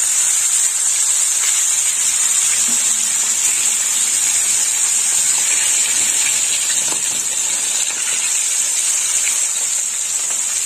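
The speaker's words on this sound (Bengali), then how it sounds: "গরম হয়ে গেছে, এবার মাছগুলো ভেজে নেব। দিয়ে দিলাম মাছ" Rohu fish frying in hot oil gives a loud, steady, close hiss with faint spattering, continuous and even throughout, with no voices.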